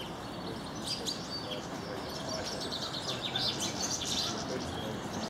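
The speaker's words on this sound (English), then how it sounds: "There are chaffinches there, but there's also something else." Chaffinches and other small birds sing and chirp at a distance, bright repeated phrases over a steady broadband wash of wind and outdoor noise.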